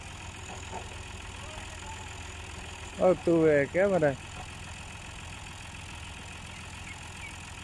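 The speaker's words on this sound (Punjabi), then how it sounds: "ਟਰੈਕਟਰ" A tractor idles at a building site where bricks are being delivered, a low steady engine rumble running throughout while someone speaks briefly in the middle.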